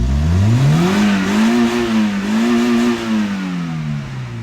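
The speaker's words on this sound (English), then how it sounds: "the exhaust note is pretty unique because of the custom muffler" Japanese car's engine revs up through a custom muffler, a loud, close exhaust note that climbs, wavers through blips, and settles back down.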